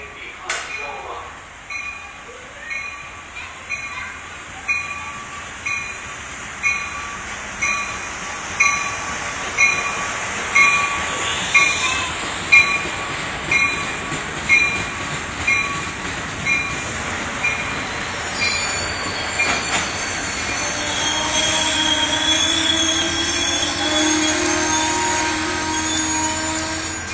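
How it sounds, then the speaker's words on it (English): An Amtrak train approaches and passes the station at Guilford, Connecticut, led by cab car 1709, with a steady, rhythmic clickety-clack of wheels over rail joints, high wheel squeal, and a rising rumble as it rolls by close and loud. "Train approaching. Please remain behind yellow line."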